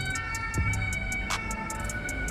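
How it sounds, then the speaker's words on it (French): Ambulance siren passing, a rapid repeating wail pulsing at a steady rhythm from moderately far away, with a brief vehicle whoosh and a short tonal blip partway through, no voices. "on va attendre quand même que l'ambulance passe"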